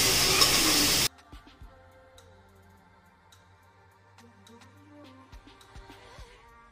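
Tomato, coriander and curry leaves being sautéed in a pan for a Kumbakonam country chicken fry: a brief loud burst of sizzle at the start, then quiet stirring scrapes and soft crackles.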